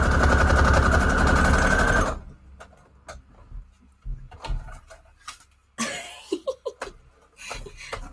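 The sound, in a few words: sewing machine stitching paper guest checks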